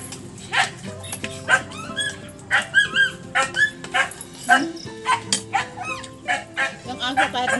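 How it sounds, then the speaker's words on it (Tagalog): A dog barks and yips repeatedly in short, sharp bursts with a few whimpering notes, fairly close, while people talk over it in a rural provincial home. "Yung aso, kahit nauna mo siyang pakainin, maingay pa rin."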